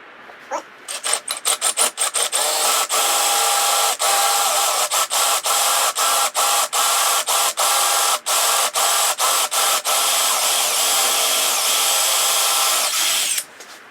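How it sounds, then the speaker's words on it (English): A power drill with a 5/16-inch bit whirs loudly and close, boring into wood in a long run broken by many brief stops and restarts. "I'm gonna take the 5/16 and drill the wood."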